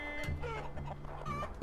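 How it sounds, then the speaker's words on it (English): Chickens cluck and squawk in short bursts over a constant low game hum in Totally Accurate Battle Simulator, a couple of sharper cries standing out. "He's got swarmed by chickens."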